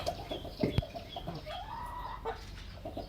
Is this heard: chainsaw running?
no